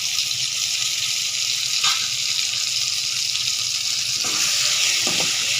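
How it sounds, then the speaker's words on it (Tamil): Tomatoes sautéing in a pan with a little salt, a steady close hiss of frying with occasional stirring clicks, alone without talk. "தக்காளி வதங்கட்டும், அதுக்கப்புறமா பார்க்கலாம்."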